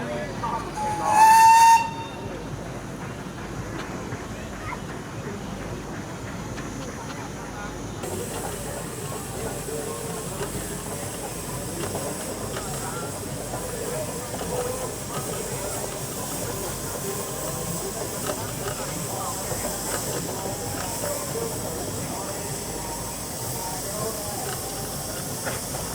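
At a steam rally, a brief whistle shrieks near the start, then a constant broad hiss of steam engines fills the air, with distant voices murmuring throughout.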